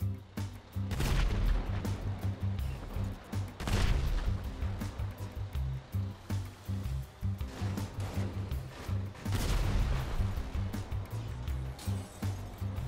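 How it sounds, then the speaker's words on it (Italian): Tank cannon fire in GTA 5 as a tank shoots at light poles: repeated heavy booms and crashes at irregular intervals over a low rumbling engine, loud and close. "andiamo a vedere cosa succede sparando con il carro armato sui pali della luce"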